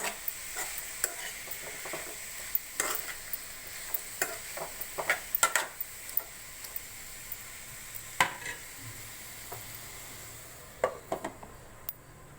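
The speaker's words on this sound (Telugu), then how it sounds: "మొత్తం కలుపుకొని మూత పెట్టేసుకొని మగ్గని." Curry in a pan is stirred with a spoon, giving irregular scrapes and clinks over a soft, quiet sizzle, close and without speech.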